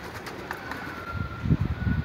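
Pigeons coo nearby in low, soft throaty bursts, a few rolling calls growing stronger toward the end over faint background noise.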